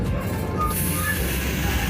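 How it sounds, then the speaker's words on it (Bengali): The Puri Vande Bharat Express rolls into Kharagpur Junction, a steady close rumble of the moving train heard from on board with a hiss of air in the upper range. "আমাদের ট্রেন ঢুকছে খড়গপুর জংশন"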